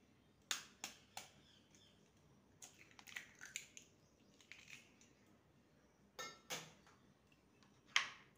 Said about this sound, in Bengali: আর একটা ডিম ফেটিয়ে নেব।